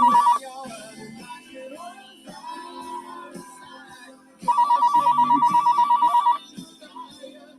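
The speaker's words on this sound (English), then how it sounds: "But that was a phone call." A phone rings with a repeating electronic ringtone for an incoming call, a short burst at first and then a longer, insistent pulsing stretch, clear and fairly loud, with faint background music between the rings.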